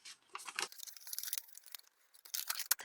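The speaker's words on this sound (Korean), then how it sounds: "이렇게 접힌 선을 따라서 이쪽을 반대쪽으로 접어줍니다." Paper sheet being folded and pressed along crease lines for a one-page book craft, giving soft, close crinkles and crisp rustles in short scattered bursts with quiet gaps.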